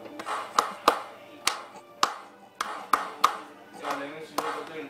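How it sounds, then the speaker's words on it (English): Hands clapping along while a children's farm song about a dog is sung, sharp slaps in a loose steady beat, about ten claps close to the mic, with singing voices heard beneath. "For the last one, just clap."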